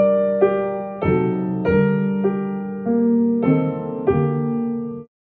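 Solo piano playing Schumann's Träumerei, Op. 15 No. 7, with the right-hand top voice held dominant: a slow, legato line of sustained chords, about seven soft attacks, sounding close and alone.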